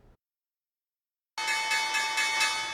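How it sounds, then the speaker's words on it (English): A ringing bell marks the opening of trading at the New York stock exchange, starting abruptly after a short silence and sustaining a steady, bright, clanging tone until the end. "Starting with the opening bell"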